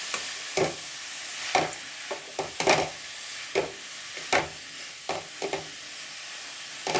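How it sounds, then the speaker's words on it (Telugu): Carrots frying in a pan for pickle, intermittent stirring scrapes and clacks over a faint low sizzle, close and quiet with irregular spacing, no talk. "జస్ట్ ఒక 1 or 2 minutes వేయించుకొని చూద్దాం"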